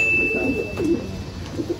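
Pigeons in a loft give soft, low cooing calls, a few muffled throaty coos spaced out against a quiet background with a thin steady tone running through it.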